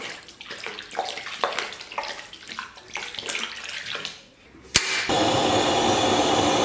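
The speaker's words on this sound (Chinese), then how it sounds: "给锅里边稍微来点水，还给锅里边稍微来点料酒" Water poured into an iron pot holding pork ribs, with a splashy, continuous rush near and loud after some clattering kitchen handling sounds.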